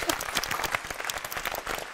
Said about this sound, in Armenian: Բաբայանին եկեք ծափարենք։